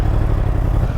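A motorcycle engine gets small throttle blips, a loud close rumbling burble with short rises in revs and mechanical clatter, no voices.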